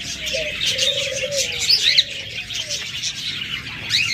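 Cockatiels and other caged birds at a bird shop chirp and whistle steadily close by, with short tonal calls repeating over a dense background of many birds twittering and cooing.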